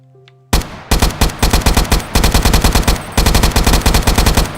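Rapid automatic fire from an AK-style assault rifle in a Minecraft Bedrock weapons mod comes in several loud, sustained bursts of evenly spaced shots, with brief pauses between the strings.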